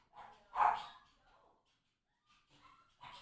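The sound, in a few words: dog barking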